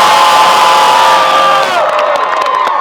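A large crowd at a Halloween scary farm event screams and cheers together on a countdown, loud and sustained for a few seconds before trailing off into scattered shouts.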